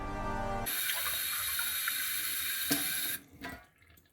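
Water pours steadily into a glass or cup, a continuous bright splashing stream that runs for a few seconds, ends with a small clink, then fades into faint trickles and a swallow.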